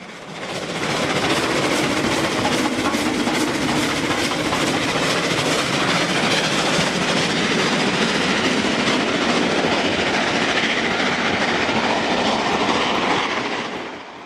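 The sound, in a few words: LNER V2 steam locomotive hauling mixed goods train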